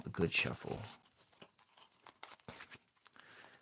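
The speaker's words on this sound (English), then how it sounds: "And do a good shuffle" Oracle cards shuffled during a reading, giving a brisk papery rustle and riffle that is loudest in the first second, then fading into lighter, scattered handling sounds with talk running alongside.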